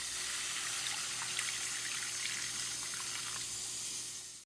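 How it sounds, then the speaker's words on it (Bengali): Hot water poured into a pan of ground mustard and poppy seed paste with turmeric and chilli powder, a steady continuous rush and splash lasting several seconds, close and fairly quiet, stopping abruptly. "গরম জল দিয়ে দিচ্ছি"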